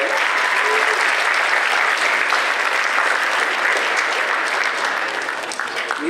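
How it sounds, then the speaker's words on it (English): A school concert audience applauds steadily after a fourth grade beginning strings performance, a dense, sustained wash of clapping from a crowd that carries evenly throughout and tapers slightly at the end. "We can give her a round of applause as well."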